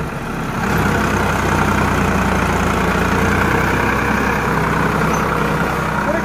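A tractor idling while hitched to a heavily loaded farm trolley, a steady low diesel rumble with a constant throbbing hum that swells slightly after the first second and then holds evenly, with no voices.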